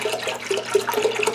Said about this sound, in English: You can hear me over the splashing milk.